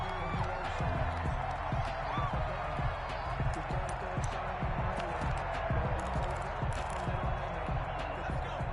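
A stadium crowd roars steadily in the Madden NFL 21 football game, a dense, even wash of cheering noise that holds throughout with no clear peaks.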